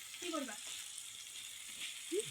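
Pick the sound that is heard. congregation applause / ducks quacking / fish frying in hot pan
fish frying in hot pan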